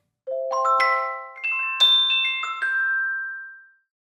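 Tuned chimes from a free sample library instrument ring out in a rising sequence of clear, bright struck tones, each note sustaining and overlapping the next before the whole phrase fades away over about three seconds, with no talk.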